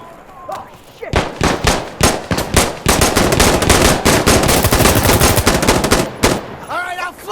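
Gunfire in the game Insurgency Sandstorm: a few single shots, then dense sustained automatic bursts rattling loud and close for several seconds before cutting off, with a brief voice before and after.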